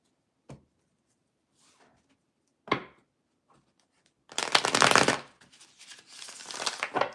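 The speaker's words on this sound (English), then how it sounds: "We'll go ahead and shuffle the deck." Tarot cards shuffled by hand: two short isolated riffle snaps, then a longer, louder burst of rapid flapping and crackling that continues in bursts, close up with no talk.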